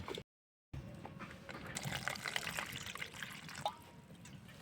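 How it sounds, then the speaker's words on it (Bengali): Water is poured into a pot of raw jackfruit during village-style Indian cooking, a faint, continuous splashing trickle lasting several seconds after a brief silence. "জল দেবো।"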